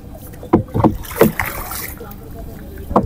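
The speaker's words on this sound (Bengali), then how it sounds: "নৌকা বাইতেছি" A boat rowed by hand on calm water at Mijmiji, with several soft paddle splashes and strokes in an irregular rhythm, near and fairly clear over light wind noise.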